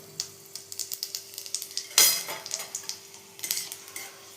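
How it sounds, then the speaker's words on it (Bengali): Green chilies and radhuni seeds frying in a pan, a light crackle with repeated sharp clinks of a utensil against the pan and one louder scrape-burst midway. "কাঁচা লঙ্কা ভাজা ভাজা হয়ে গেছে।"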